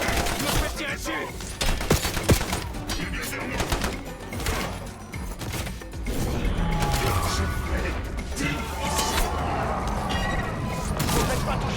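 Gunfire in the shooter game Call of Duty Black Ops 7: dense bursts of shots and mechanical clatter over a loud, busy game soundscape, continuing throughout with voices speaking over it.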